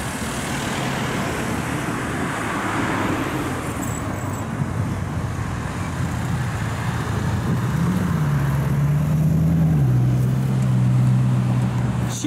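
A Bugatti Chiron drives past on a public road. The low engine note sits under steady traffic noise, then rises and holds as a droning tone in the final seconds.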